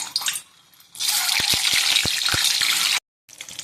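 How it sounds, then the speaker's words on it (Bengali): Eggs frying lightly in hot oil in a wok, a loud broad hiss that starts abruptly, with a few soft clicks and taps, then cuts off briefly before resuming. "এবার ডিমগুলো হালকা করে ভেজে নেব"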